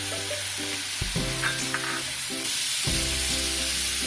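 Finely chopped cabbage, about a quarter head, frying in a pan for a mixed vegetable dish, giving a steady broadband sizzle with scraping stirs near 1 and 2.9 seconds, close and continuous with no talking.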